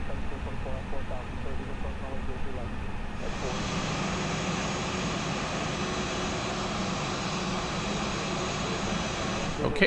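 Jet engines of a Flight Factor A320 airliner in the X-Plane flight simulator hum at steady idle while parked, a continuous broadband roar that brightens and thickens a few seconds in, with faint voices underneath.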